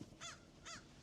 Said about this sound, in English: I feed the crow, and these crows are loud.